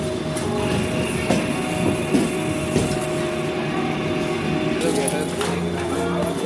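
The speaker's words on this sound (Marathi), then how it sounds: "ती बघ ट्रेन आली" A train pulls into a station with a loud, steady rumble and repeated wheel clacks running throughout, and voices are faintly mixed in.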